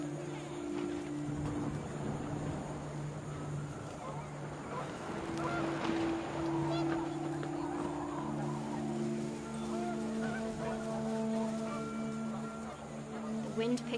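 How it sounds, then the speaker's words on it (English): Panicked geese in What Remains of Edith Finch honk in a flurry of repeated, overlapping calls, loud at first and then thinning out, with gusting wind and a voice speaking underneath. "The wind picked up, and panicked geese appeared and quickly went."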